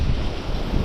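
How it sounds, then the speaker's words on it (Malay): Strong wind gusts across a coastal fishing spot on Pulau Rimau, buffeting the microphone loudly in uneven bursts over a rumble of surf. "Angin kuat."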